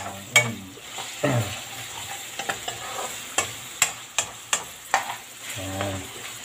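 Pancit bato toppings frying and being stirred in a pan, a steady soft sizzle under repeated sharp scrapes and clinks of a utensil against the pan, close and fairly loud, with no talking.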